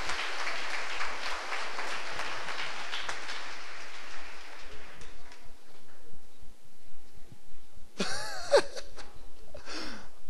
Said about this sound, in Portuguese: Vamos dar uma salva de palmas a Deus